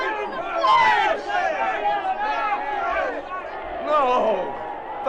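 Crowd noise in a radio drama, a dense babble of many voices murmuring and calling out together, fairly close and steady for a few seconds.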